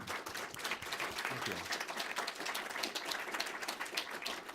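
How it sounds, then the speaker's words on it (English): Dense, sustained applause from a conference audience after a panel of four speakers, steady clapping filling the room, with a brief spoken word near the start. "if we could have another round of applause for our 4 speakers."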